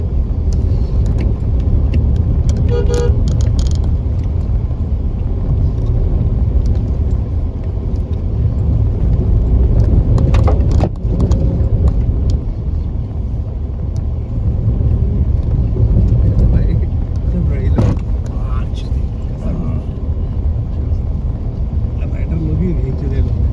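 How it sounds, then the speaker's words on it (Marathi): Heavy road traffic rumbles steadily behind a bus stuck in a jam on a rough mountain road from Pokhara to Muktinath, with engine drone, occasional horn bursts and people talking over it throughout. "ट्रॅफिक मध्ये थांबलोय आपण आता"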